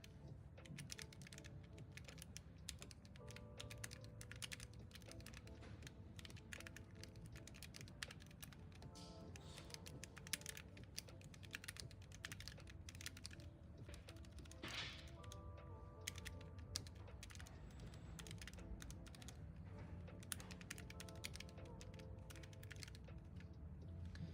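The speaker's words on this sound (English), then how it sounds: "Give a bit of a feel what the keyboard sounds like." Steady, rapid typing on a computer keyboard clatters for the whole stretch, with a few louder keystrokes. Soft and close, with no talking.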